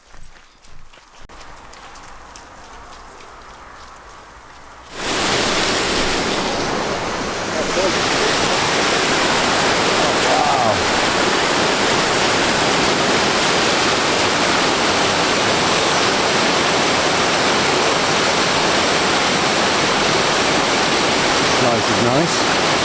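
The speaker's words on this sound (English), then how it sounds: "right next to a huge waterfall" Loud, steady roar of a huge waterfall at an overnight spot in Scotland between Applecross and Maree, a broad continuous rush that starts abruptly after quieter sounds and stays constant to the end.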